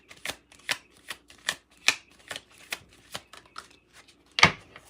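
Tarot cards are shuffled and drawn by hand in a series of crisp, close riffling flicks at an irregular pace, ending in one sharper snap as a card lands. No talk.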